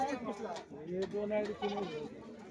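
At a goat and sheep market in Loni, a goat gives a wavering, nasal bleat up close while people talk nearby.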